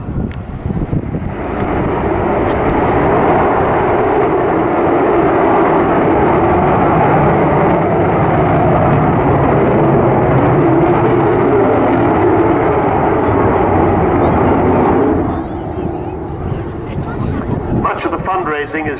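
An Avro Vulcan bomber's jet engines give a loud, sustained roar mixed with wind buffeting that holds steady for about fifteen seconds, then drops off.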